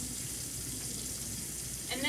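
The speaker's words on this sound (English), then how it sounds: "grab another paper towel to shut the faucet off" Water runs steadily from a sink faucet, a constant close hiss and splash lasting the whole moment without pause.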